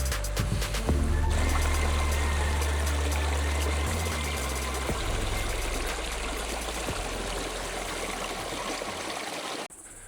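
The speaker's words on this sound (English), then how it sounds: "We have a little waterfall." A small forest waterfall at Skaņais Kalns in Latvia pours in a steady, loud, close rush of water that runs unbroken until it cuts off at the end.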